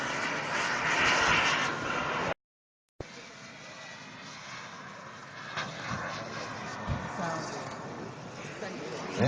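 An ARF model jet accelerates down the runway and climbs away at an RC airplane show in Waterloo, Ontario, a sustained turbine whine that cuts out briefly, then continues more distantly under a commentator's voice.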